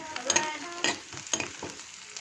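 Nigella seeds (kalijira) frying in hot oil in a pan, quick crackling sizzle bursts in short uneven pulses, close and fairly clear.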